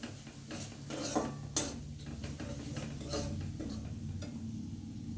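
Spice paste stirred and fried in a pan, with close scraping and light metallic clinks of a spoon against the pan over a low sizzle, in irregular strokes without talk.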